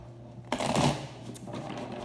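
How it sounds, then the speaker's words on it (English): A red deck of tarot cards is shuffled up close, a single quick riffling burst of flicking cards over a low steady background hum. "2 more shuffles"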